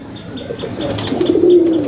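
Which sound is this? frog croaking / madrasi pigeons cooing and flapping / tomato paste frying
madrasi pigeons cooing and flapping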